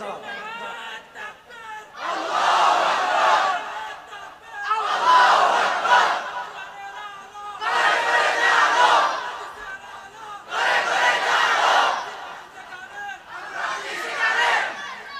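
A crowd at a Bangladeshi Islamic sermon gathering chants the slogan Lillahi Takbir in five loud, rhythmic unison shouts, each about two seconds long with brief quiet gaps between.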